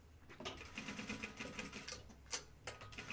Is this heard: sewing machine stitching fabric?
yes